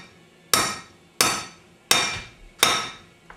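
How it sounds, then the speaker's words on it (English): A hammer strikes a small lead musket ball on a table four times at an even pace, each sharp, close metallic whack decaying quickly before the next. "give it a few good whacks so it's nice and flat"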